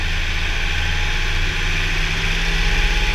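A tractor PTO keeps running a Whirl-A-Feed silage blower on corn silage, producing a loud, steady, droning engine and machinery roar with constant vibration and no talking.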